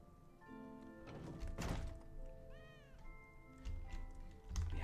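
Cats meow in a house in the Elder Scrolls Online game, a few clear mewing calls close by over a soft musical background, with a dull thunk partway through.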